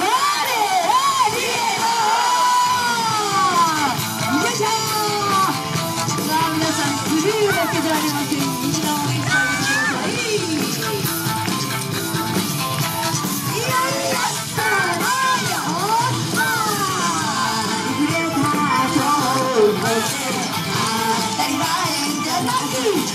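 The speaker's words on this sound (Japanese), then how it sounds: "皆さんの声援も大切ですよさあ拍手の方よろしくお願いいたします" A crowd at an outdoor stage show in an iris park fills the air with sustained cheering, children's shouts and yells, loud and continuous throughout, with scattered clapping mixed into the noise.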